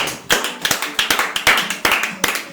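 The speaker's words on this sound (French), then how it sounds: "On va faire un maximum d'applaudissements pour recevoir la star du jour dans Bonjour chez vous." Audience clapping to welcome a guest artist on a French-language TV show, heard as loud, separate sharp claps in an uneven rhythm, close and with no talking.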